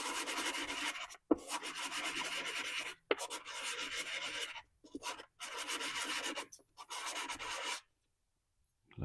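A Holley carburetor part is rubbed clean in several bursts of scratchy, close-up scrubbing separated by short pauses, ending in silence.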